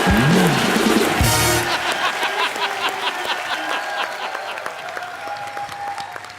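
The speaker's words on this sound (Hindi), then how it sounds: "तालियां बजाओ बच्चा के लिए।" A studio audience on a Hindi comedy talk show breaks into loud, dense applause that peaks in the first seconds, then thins into scattered clapping and a little laughter that taper off over several seconds.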